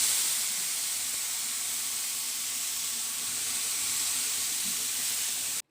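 A hot tawa on the stove, heating for egg dosa, gives off a steady, even hiss that holds for about five seconds and then cuts off sharply, with no voices.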